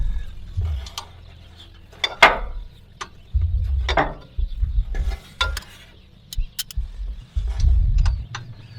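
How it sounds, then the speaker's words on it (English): A 6mm Allen key works at a pulley bolt on a screen door crank, giving intermittent metallic clicks, scrapes and low knocking handling noises, close by, in short uneven bursts with no talking. "So we're going to take the pulley off the crank. It's a 6mm Allen bolt."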